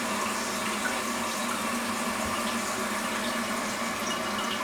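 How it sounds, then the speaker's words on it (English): A toilet fill valve keeps running without shutting off, a constant hissing rush of water into the tank, steady and fairly close with no voices. "As you can hear, the valve has not shut off."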